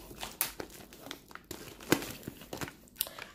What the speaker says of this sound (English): So the back is like a nice thick plastic bag. And let's just untie it.